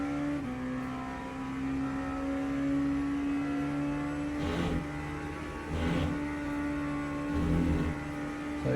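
An LMP2 prototype's naturally aspirated Gibson V8 with no hybrid, driven at Spa in Le Mans Ultimate, drones steadily through the gears with a few brief upshift blips, alone and fairly loud.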